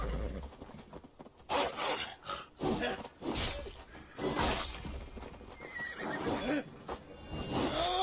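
Horse neighing and whinnying in the video game Assassin's Creed Valhalla, several loud whinnies with clip-clop hooves and game sounds, no talk.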